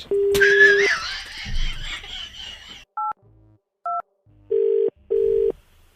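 A few short electronic phone beeps, then a pair of steady tones repeating twice like a call-ended signal, after a brief burst of laughter.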